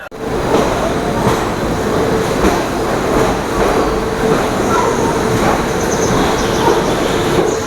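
A passenger train running between Mettupalayam and Coimbatore rumbles along loudly from inside a carriage, with a steady rhythmic clatter of wheels over rail joints and the constant rushing noise of the moving coach.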